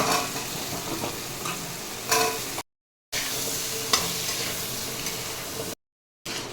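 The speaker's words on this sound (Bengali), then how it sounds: "এবার ওই তেলের মধ্যে দিয়ে দিচ্ছি সাদা জিরে, তেজপাতা, আলুগুলো দিয়ে দিচ্ছি।" Potatoes sizzle in hot oil in a pan with cumin seeds and bay leaf, a steady loud frying hiss broken by a few stirring scrapes and clacks, with two short gaps of silence.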